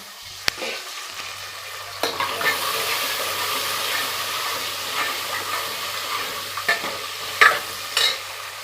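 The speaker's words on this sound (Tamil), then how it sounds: "இப்போ கரண்டி வச்சு கிண்டிக்கலாம்." A ladle stirs sundakkai vathal kuzhambu in hot oil, producing a constant sizzling hiss broken by scrapes and a few sharp clinks against the pot, close and fairly loud.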